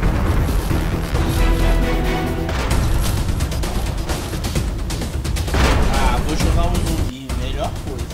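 Video game gunfire crackles in rapid bursts of shots and booms throughout, loud and dense, with people talking over it during a live-streamed shooter match.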